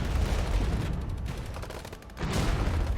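Infantry gunfire in a Cold War strategy game with East German armored forces, a dense continuous crackle of rifle and machine-gun fire that dips briefly mid-way before resuming at full strength.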